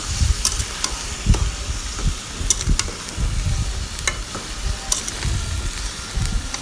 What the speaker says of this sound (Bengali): এরপর এখানে দিয়ে দিব আমি আদা রসুন পেস্টটা দিয়ে নেড়ে নেব।